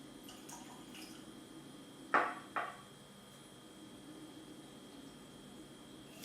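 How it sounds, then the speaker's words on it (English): Water is added to a glass of whisky at a tasting: two small drips or splashes, close and soft, fall a moment apart over quiet room hiss. "So let's try it with a little drop of water."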